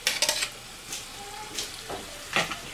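Cooked long-grain rice is stirred into ingredients in a sizzling pan, with scraping spoon strokes and clinks over a steady frying hiss.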